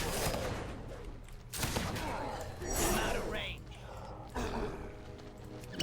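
Rapid gunfire in a World of Warcraft: Legion battle against demons, bursts of shots layered with game effects and clashes, sounding steadily loud through the whole stretch with a voice talking over it.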